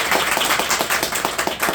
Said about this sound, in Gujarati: તો જોરદાર તાળીઓથી સ્વાગત કરીશું